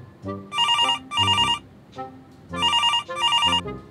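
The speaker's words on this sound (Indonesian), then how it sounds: "Ini telepon." A telephone rings in two pairs of electronic trilling bursts with a pause between the pairs, loud and close with no talk over it.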